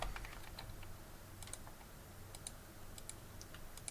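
Fingers type on a newly bought computer keyboard: a faint, irregular patter of light key clicks with brief pauses, fairly soft and with no talking over it.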